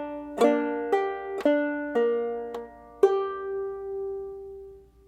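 A clawhammer banjo plucks a short phrase of bright, twangy notes in an uneven rhythm, ending on a ringing note that slowly fades.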